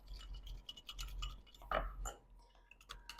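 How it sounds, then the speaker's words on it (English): A small whisk clicks and taps against the inside of a bowl in quick, light, irregular strokes, close and quiet, with no talking over it. "And then I have a little whisk that I use"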